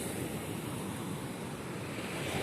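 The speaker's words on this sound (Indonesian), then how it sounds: "gelombang sekarang tidak bersahabat" Sea waves break on Tanjung Cemara Patok beach in a continuous, loud, wash of surf mixed with wind buffeting the microphone, steady throughout without speech.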